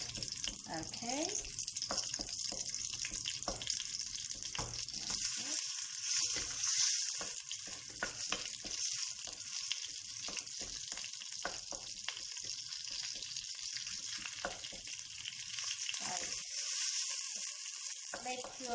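Thai red curry paste and coconut milk sizzle and bubble in an oiled pan, a steady close frying hiss with occasional stirring scrapes and clinks throughout.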